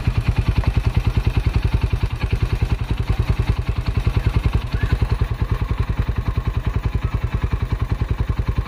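A Rusi Sigma 250cc motorcycle engine fitted with Keihin Sudco flat slide carburetors idles close by, a steady rapid low-pitched thumping pulse with mechanical clatter, loud and even throughout.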